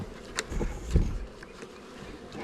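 Honey bees humming around an outdoor spring hive, a steady close buzz with a few louder passes near the microphone.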